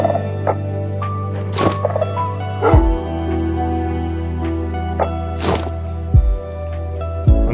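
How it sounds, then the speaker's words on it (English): Tamed wolf dogs in Minecraft give several short barks and yips at uneven intervals over a steady low background, with some thunks between them and no talking. "I craft up the wolf armor and equip my 2 new dogs"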